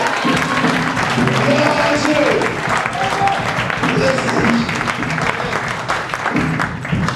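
Church congregation applauding and cheering together to acclaim the Lord during a French-language sermon, a dense, steady wash of clapping and crowd noise filling the whole span with voices mixed in.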